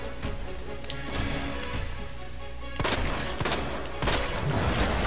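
Pistol shots in Resident Evil 2, a few sharp loud reports spaced about a second apart over a dense, rumbling game soundscape.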